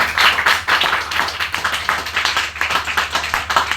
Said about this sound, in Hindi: तो इसके लिए जोरदार तालियां होना चाहिए।